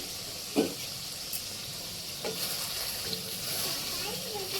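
Chicken frying in a covered pan gives a soft, steady sizzle and hiss, with a couple of faint clinks from the pan.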